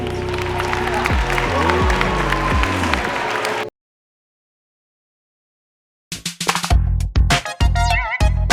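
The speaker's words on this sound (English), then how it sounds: "Round of applause, please." Applause from the audience at a World Scholar's Cup global round in Beijing fills the first few seconds, loud and dense, then cuts to silence before unrelated music with singing starts.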